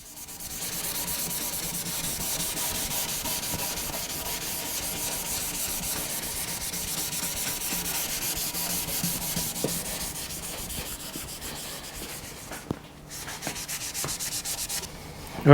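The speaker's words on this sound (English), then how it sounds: "We scuffed the pan up with a red Scotch-Brite." A red Scotch-Brite pad scuffs a diesel engine's oil pan with a steady, close, rasping rub that runs continuously, with a few brief pauses near the end.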